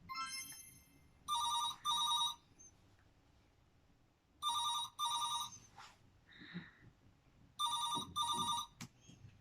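A home telephone ringing in three double bursts of bright electronic trills separated by quiet pauses, with faint background noise between rings.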